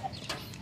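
Brief, faint clucking from laying hens and free-range village chickens with soft farmyard background noise.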